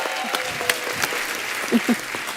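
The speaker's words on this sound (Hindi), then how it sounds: "जोरदार तालियां सलमान के लिए" A studio audience on The Kapil Sharma Show gives loud applause to guest Salman Ali: a steady wash of clapping with faint voices mixed in.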